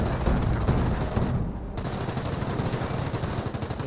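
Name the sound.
gunfire in the video game Company of Heroes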